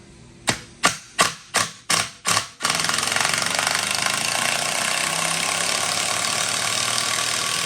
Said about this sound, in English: we're going to switch it to A, or assist mode, and this is a little bit different when unscrewing something